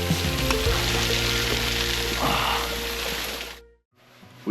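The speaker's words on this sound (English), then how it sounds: "I need to pass this waterfall." Waterfall on the PR18 hiking trail in Madeira, a loud steady rush of falling water close by that fills most of the moment before cutting off abruptly near the end.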